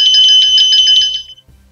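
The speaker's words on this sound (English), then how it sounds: "Maybe you like one of these bells." A bright shop bell rings in quick, repeated metallic strikes for about a second, then cuts off, leaving near silence with a faint low thump.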